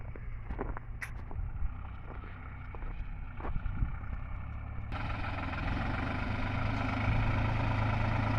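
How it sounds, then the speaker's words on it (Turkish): A New Holland TT55 tractor engine idles in an alfalfa field, a low steady rumble that grows louder and rougher partway through as the machine draws closer, with wind buffeting the microphone. "traktörümüz geldi Kasım Bey"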